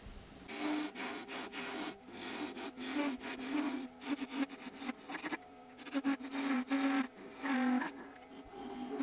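A wood lathe spins a wooden tensegrity rocket while it is sanded smooth. A steady motor hum sits under a continuous rough, scratchy rubbing that rises and falls throughout, with no voices.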